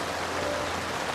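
A brief rain shower falling steadily in an outdoor garden, a dense, even patter of drops on surfaces with no pauses, fairly loud and close, no voices.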